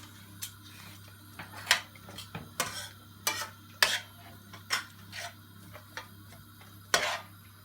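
Onions stirred in a pan with butter and cumin seeds over high heat for a roasted vegetable curry, giving a series of soft scraping and clinking strokes at irregular intervals over a steady low hum, with no talk.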